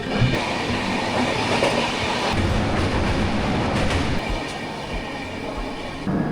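A passenger train rumbles steadily along the rails on the Araku to Jagdalpur line, a continuous loud clatter of wheels and carriage noise with occasional sharper metallic clicks.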